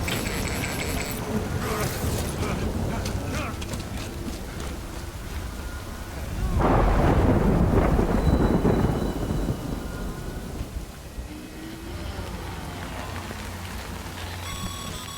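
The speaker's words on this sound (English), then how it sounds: "Good thing it was raining." Thunderstorm rain in the video game Death Stranding: a constant hiss of rain on surfaces with a heavy rolling thunder swell in the middle, loud and close, alongside game effects.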